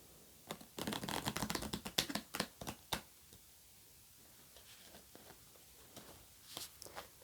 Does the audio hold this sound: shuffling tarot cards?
yes